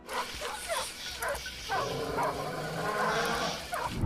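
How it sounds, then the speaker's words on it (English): Several dogs bark repeatedly at a moderate distance, overlapping yips and barks in an irregular rhythm. "the dogs in this video are barking their heads off and won't shut up"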